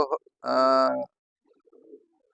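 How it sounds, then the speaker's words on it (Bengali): Pigeons cooing in a village loft where birds sit on eggs beside their young chicks; one clear, moderately loud coo phrase, then a faint low murmur afterward. "অনেক কবুতর কিন্তু এখন ভিতরে রয়েছে এই যে ভিতরে রয়েছে তা দিচ্ছে ডিমে"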